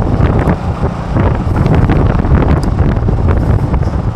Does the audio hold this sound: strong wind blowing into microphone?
yes